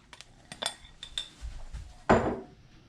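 Bacon goes into a metal pot for razor clam chowder. A few light clinks and clatters of utensil against cookware are followed by one louder, sharper clank near the end, all close by in a quiet kitchen.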